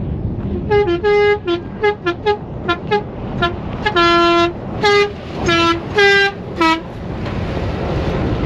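Dakar Rally 2025 trucks passing in the desert, horns sounding in a long run of loud, close honks, short toots then longer blasts, over a steady engine and road rumble.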